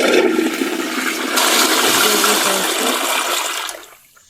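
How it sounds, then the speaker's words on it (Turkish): A toilet flushes in a bathroom, a loud rushing gush of water lasting several seconds before draining away and fading quickly at the end, with no talk over it. "Kapatayım sifonu."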